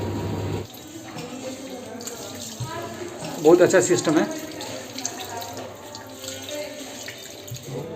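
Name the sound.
sensor water tap running at airport bottle-filling station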